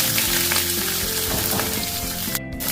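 Chopped onion sizzles steadily in hot oil with dry red chilli and crushed garlic for ghugni, a close, continuous frying hiss with faint stirring.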